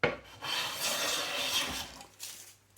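A hand plane shaves thin curls off timber, making a few rough, rasping strokes at close range, then trailing off into quiet.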